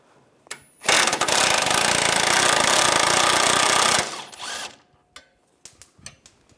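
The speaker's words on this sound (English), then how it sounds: "Take the nut off." Impact tool with an 18mm socket spinning a nut off a Jeep Wrangler sway bar link, a loud continuous rattling burst of about three seconds, then winding down into a few clinks of metal.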